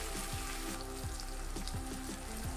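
Taro pieces frying on a high flame until crispy produce a soft, continuous sizzle with faint bubbling pops, steady and fairly quiet, with nobody speaking.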